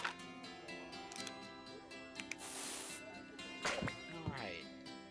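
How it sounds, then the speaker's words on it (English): Bug spray is sprayed in the video game Scribblenauts Unlimited, one short broad hiss burst against quiet game music and effects. "Bug spray."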